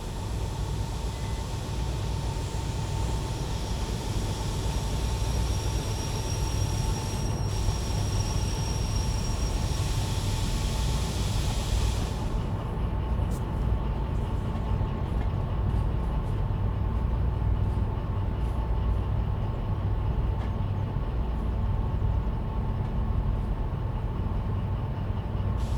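A train with a DH4, a DE6 locomotive and a slug rolls steadily in the Derail Valley simulator, a constant heavy low rumble with a brief high brake-like squeal that drops away midway.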